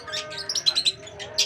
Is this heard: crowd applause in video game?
no